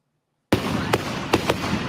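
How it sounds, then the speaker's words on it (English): Fireworks from a home display in a Port Jefferson neighborhood erupt after a half-second of silence into a dense, loud crackle, with several sharper bursts standing out in quick succession. "It's a home fireworks display that draws hundreds to this Port Jefferson neighborhood each year."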